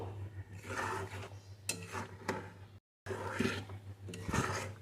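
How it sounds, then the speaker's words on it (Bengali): A spoon scrapes around a pan as sugar is stirred into a ripe mango dish, with repeated close, gritty strokes over a steady low hum. "এখন একটু নাড়িয়ে নেব"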